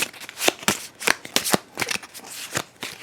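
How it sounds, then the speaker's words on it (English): Playing cards shuffled by hand at a tabletop game session: a quick run of crisp riffling bursts and snaps, close and clear, with no voices. "Give it another quick shuffle and a cut."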